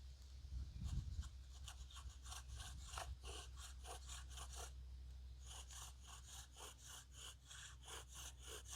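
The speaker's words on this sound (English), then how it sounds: "I can see that the spindle is now starting to develop a depression from the friction of the cordage on it." A bow drill's cordage rubs back and forth on a wooden spindle during friction fire making, giving a steady series of rasping, sawing strokes at close range, each stroke a short scrape in a regular rhythm.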